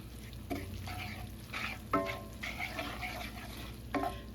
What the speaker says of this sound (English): you just want to mix this real well into your meat